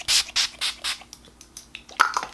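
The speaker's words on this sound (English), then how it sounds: "I'm gonna go ahead and use my Wet n Wild setting spray" Wet n Wild setting spray misted onto a face in a string of short, soft hissing bursts, about five or six pumps in quick rhythm, close and fairly quiet, followed by faint rustling.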